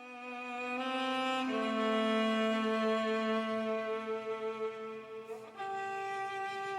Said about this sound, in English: Saint Trina has a song, and it sounds like this.